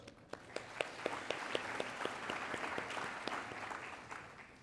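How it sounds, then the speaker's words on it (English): Mid-sized crowd applauding, with sharp individual claps standing out over a steady wash of clapping that swells and then fades. "Let's give our sponsor another round of applause."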